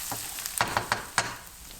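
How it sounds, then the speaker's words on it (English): Chard-roll filling sautéing in a pan, a quiet brief sizzle broken by a few sharp stirring clicks and scrapes of a spoon against the pan. "while sauteing"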